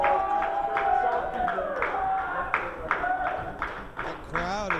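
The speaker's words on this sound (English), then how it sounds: "The crowd is trying to get behind Stephen Wolf" A wrestling crowd claps in a rhythmic, steady beat to rally behind Stephen Wolf, the claps sounding distant and moderate under a commentator's voice.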